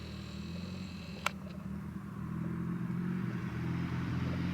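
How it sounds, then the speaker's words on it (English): A loud car passes behind on an evening road near Canyonlands in Moab, Utah, its low engine rumble swelling steadily, with one brief sharp click early on. "Loud car behind us."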